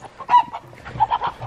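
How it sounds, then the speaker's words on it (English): A few short, scratchy rooster calls and clucks sound nearby on a snowy homestead, soft and intermittent, with no talking. "Our renegade rooster."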